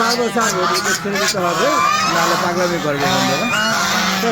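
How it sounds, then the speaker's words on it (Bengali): Ducks and chickens crowd a shed in the morning, a loud, continuous tangle of quacks, honking calls and clucks from many birds at close range. "এই আমার শেডে এইভাবে আমি হাঁস মুরগি গোল করে রাখি"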